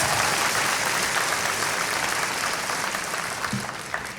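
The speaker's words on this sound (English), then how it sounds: "Come on, give Justin another round of applause." Applause from a commencement audience, a thick continuous roll of clapping that slowly tapers toward the end, with a few sharper individual claps near the close.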